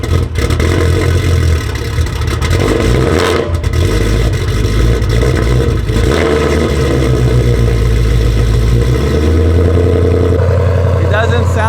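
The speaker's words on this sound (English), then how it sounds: "Let's get a cold start though" A car engine on E85 fuel cold-starts on a very cold day and settles into a steady, loud, low rumbling idle that runs the whole time, with people talking over it.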